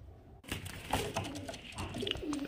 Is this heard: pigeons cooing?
yes